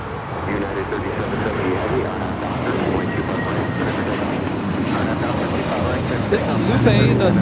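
A Frontier A321neo jet airliner takes off at Los Angeles LAX, its steady engine roar building and spreading across the whole clip, loud and sustained, with someone talking over it.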